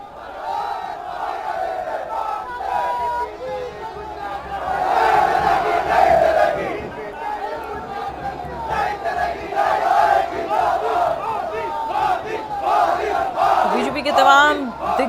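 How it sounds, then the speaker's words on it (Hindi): A large crowd roars and chants continuously at Home Minister Amit Shah's election road show in Nathdwara, Rajasthan, with loud rhythmic shouting swelling in waves throughout. "लोगों की भारी भीड़ यहाँ पर मौजूद है।"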